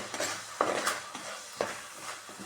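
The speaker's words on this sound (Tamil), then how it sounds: "நல்லா வதக்கணும் ஃப்ரெண்ட்ஸ் சின்ன வெங்காயம் போட்டிருக்கேன்" Shallots, garlic and curry leaves are sautéed in a pan over a steady low sizzle, with occasional light scrapes and taps of a spoon against the pan.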